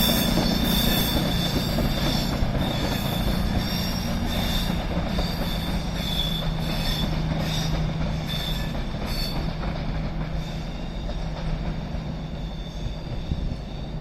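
Class 221 unit 221 104 passes through Crewe on the West Coast Main Line, a steady loud rumble with wheel squeal and faint rail clatter sustained for the whole stretch, no voices.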